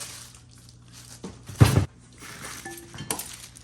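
Metal Allen keys from a RIDGID R4520 contractor table saw kit clink and rattle together, with a sharp burst of jangling in the middle and a few lighter clinks after, close by with no speech.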